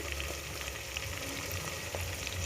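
Onions for chicken biryani fry loudly in oil, a thick, unbroken sizzle and crackle close up with no voices.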